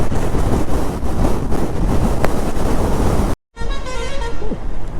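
Strong wind buffets the microphone during a motorbike ride in light drizzle, a loud, steady roar through most of the stretch, broken by a brief dropout before the gusting resumes.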